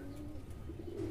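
A freshly caught pigeon held in the hand gives a soft, low coo near the end, over faint steady background noise.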